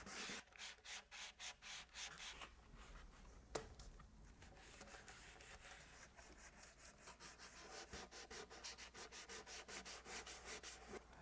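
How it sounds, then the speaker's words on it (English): A ukulele's wood finish is sanded by hand with 400 grit sandpaper, quiet close rubbing strokes in an even back-and-forth rhythm that speeds up toward the end, with no talk. "we're going to sand it out one last time with 400 grit sandpaper"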